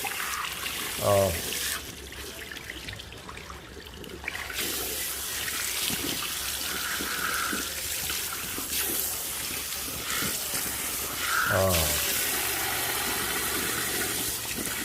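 Water running from a salon sink sprayer while hair is rinsed during a platinum blonde colouring, a steady close hiss and splash that lasts throughout, with brief clunks of the tap turning near the start and end.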